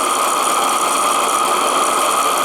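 A radio-controlled model steam engine's feed pump works steadily with its check-valve ball, giving a continuous, fairly loud mechanical hiss and whirring buzz with no break and no voices.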